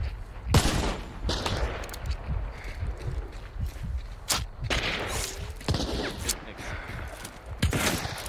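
Gunfire in the video game Hunt: Showdown: several loud, sharp shots spaced out across a few seconds, some echoing, with low thumps and movement noise between them and brief talk underneath.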